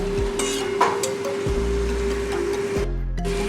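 Fenugreek greens being stirred in a pan with a spoon, a few distinct scraping strokes over a steady low sizzle and background hum, no talking.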